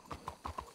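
A horse's hooves clip-clop on the ground in four or five evenly spaced, faint steps, alone without talk.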